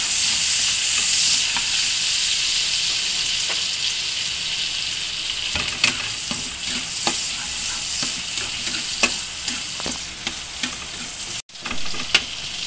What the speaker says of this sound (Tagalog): saute lang natin yung kamatis